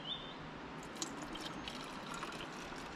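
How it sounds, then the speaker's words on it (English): Metamoon liquid is poured back into a bottle, a quiet, close trickle and splash of liquid filling the container over a few seconds with no talking. "I'm going to pour the Metamoon back in."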